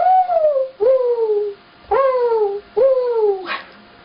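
A voice imitating a mourning dove, giving four separate falling, hooting coos in a slow, steady rhythm, close and clear, followed by a short breathy burst.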